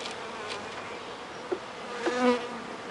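Honeybees from a package being hived make a soft, continuous buzzing drone, with a few brief louder passes close by and light clicks of handling.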